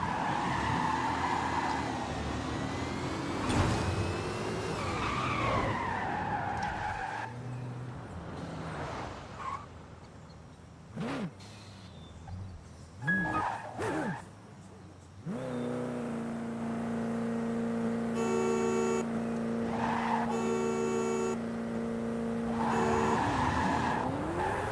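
Cars race and drift in the Forza Horizon 5 video game: engines rev and rise in pitch, tires squeal and skid in bursts, and the sound drops to brief lulls before a steady high engine drone returns.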